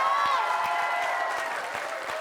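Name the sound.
applause from studio audience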